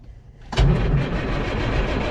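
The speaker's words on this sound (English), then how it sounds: "truck's really not starting, which is kind of obnoxious." A work truck with battery trouble cranks but fails to start: after a short quiet lead-in, a sudden loud starter engages and keeps grinding in a steady, pulsing rumble without catching.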